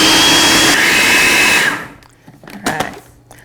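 A blender whirs loudly and steadily as it mixes a cream cheese filling for a gluten-free fruit pizza, then cuts off abruptly, leaving a few faint clatters and scrapes.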